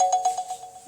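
A mobile phone ringtone goes off in a classroom during a thermodynamics lecture, a steady sustained tone pulsing in a regular repeating pattern, fairly loud and alone for about a second.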